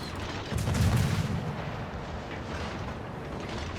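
Warship guns fire high-explosive shells in a naval battle game, a heavy booming salvo followed by a rolling rumble that fades, loud and close.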